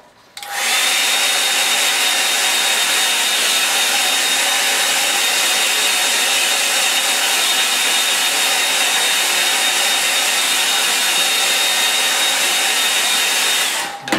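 A hair dryer blows loudly and continuously on a painting, switching on and running as a steady, close, even roar before cutting off at the end, with no talking.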